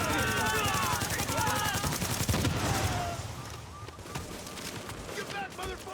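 Video-game gunfire: dense, rapid automatic fire fills the first three seconds, then thinner scattered shots and bursts follow, with voices and other game sounds mixed in.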